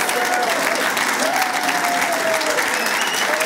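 Dense, loud audience applause at a Panasonic Lumix S5 II launch conference in Japan, continuous clapping with a faint voice over it throughout.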